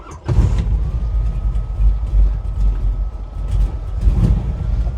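Big-block V8 in a 1957 Chevy wagon cranking and catching, then settling into a loud, rough, low rumbling idle, close by and continuous throughout.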